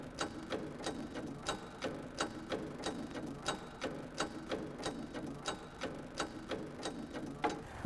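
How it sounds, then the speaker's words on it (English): A mechanical vehicle jack raises a car for a tyre inspection, making a steady, fast series of ratcheting clicks at an even rhythm, moderately close, with a low background hum and no voices. "I'm going to jack this vehicle up just so we can do that"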